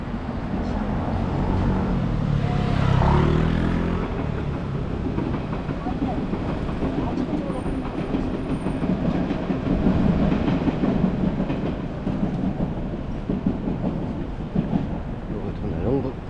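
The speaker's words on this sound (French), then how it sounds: "Le métro aérien retourne dans le sol." An elevated metro train runs along its track, a loud sustained rumble with rattling and clattering wheel noise that swells early on, then continues steadily.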